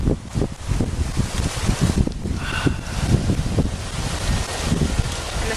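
Wind gusting through the sacred valley of the Peruvian Andes, a continuous rumbling buffet with rustling trees, loud and close.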